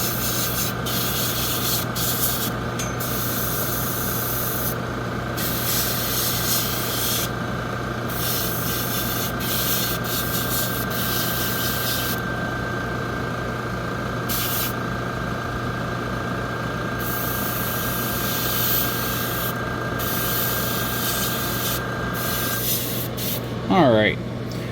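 An airbrush compressor hisses steadily while paint is sprayed onto a Gundam model kit, a continuous close wash of air and motor hum with short breaks, ending in a brief whistle.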